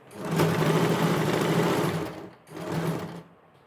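Sewing machine stitching leftover suit cloth into a bag, running in two quick bursts, a long continuous whir and a shorter one after a brief pause, close and loud, with no talk.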